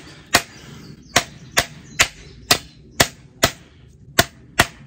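A stick beats against the front of a pistol laser light combo, giving about ten sharp, loud, evenly spaced knocks that ring briefly, heard up close with nothing else over them.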